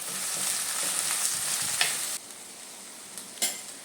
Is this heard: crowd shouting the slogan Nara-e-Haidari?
no